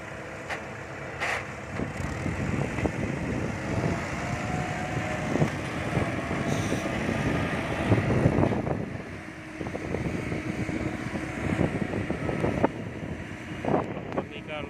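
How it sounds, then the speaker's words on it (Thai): Steady wind rushes outdoors at a rural work site, buffeting the microphone in a continuous broadband roar that swells and eases over about fifteen seconds, with no talk heard. "ลมเย็นสบายดีครับ"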